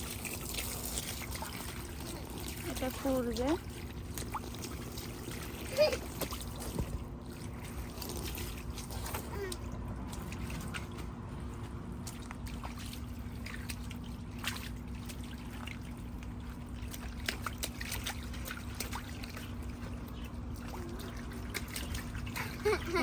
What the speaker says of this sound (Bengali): এই যে এখানে পানি দিতেছি